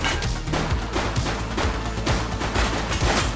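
Dense, continuous rattle of gunfire in The Precinct police video game, steady and fairly loud throughout with overlapping rapid shots and no clear pauses.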